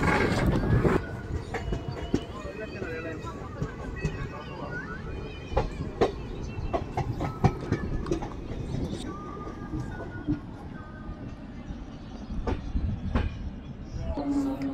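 A passenger train rolls slowly toward Teliamura railway station in Tripura, a steady rumbling rail noise with faint clacking heard from on board, continuous throughout with some voices mixed in.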